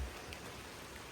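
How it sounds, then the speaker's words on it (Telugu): Heavy rain falls in a forest near a waterfall in Bali, a faint, steady hiss of drops with no voices over it. "పాయింట్ ఏంటంటే ఫుల్ వర్షం పడుతుంది"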